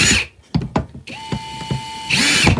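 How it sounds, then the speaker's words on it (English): A handheld power drill drives screws while a gingerbread baking co. tray DIY kit is assembled, with short whirring bursts at the start and end, clicks and handling noises between, and a steady tone in the middle. "now I can flip it over and I can finish it with my drill"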